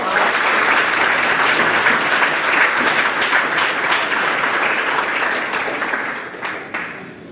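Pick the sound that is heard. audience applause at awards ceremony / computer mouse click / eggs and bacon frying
audience applause at awards ceremony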